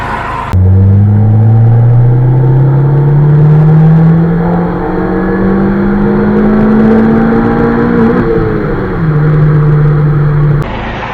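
A tuned Honda D16Y8 engine running on E85 revs steadily upward through a long pull, its loud droning tone climbing for about eight seconds before easing off and settling, with no talk over it.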